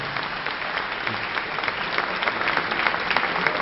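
A large audience claps warmly and steadily at a live French event, a dense, even wash of applause with no voices over it.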